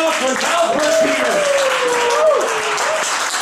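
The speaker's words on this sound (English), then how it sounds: "a round of applause for Salzburg Peter" A stand-up comedy crowd in Salzburg breaks into warm, dense applause, steady clapping that fills the room while a voice carries on over it.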